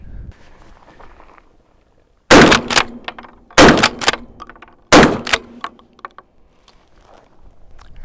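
Three loud, sharp blasts from an STF 12 shotgun fitted with a Rex Silentium SEG12 suppressor, evenly spaced about a second and a half apart, each followed by brief mechanical clatter, with quiet handling noise before and after.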